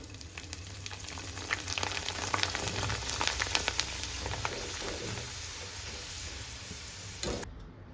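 Rice kurkure snacks fry in hot oil with a continuous crackling sizzle and bubbling, steady and close, with no talk over it.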